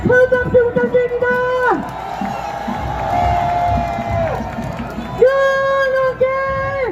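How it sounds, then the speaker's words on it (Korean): A large crowd at a Korean political rally cheers and chants, with loud sustained voices rising together in long, drawn-out calls over a dense roar of babble. "다시 한번 큰 박수 부탁드립니다"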